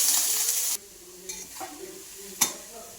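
A grated milk mixture in a ghee-greased pan gives off a loud sizzle that cuts out abruptly, followed by a few soft scraping stirs and one sharp clink of a utensil against the pan.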